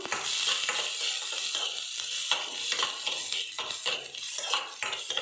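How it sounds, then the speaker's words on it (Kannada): Onions and green chillies fry in a pan for veg momos, a steady close sizzle with scraping stir strokes and light clinks of a spoon against the pan, no one talking. "ಅಲ್ಲಿವರೆಗೂ ಜಸ್ಟ್ ಲೈಟಾಗಿ ಈ ಥರ ಫ್ರೈ ಮಾಡ್ಕೊಳ್ಳಿ"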